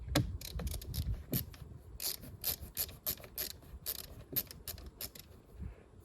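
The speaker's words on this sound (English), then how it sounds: "to remove this upper part of the dash, we got to unscrew this Phillips screw" A Phillips screwdriver unscrews a screw from the upper dash of a 2006-2011 8th-gen Honda Civic LX, giving quick clicking, ratcheting turns in a rapid irregular series, close but quiet.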